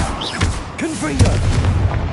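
A blasting spell in the game Hogwarts Legacy goes off as a short, deep boom with a quick crackling burst, close and loud over game ambience.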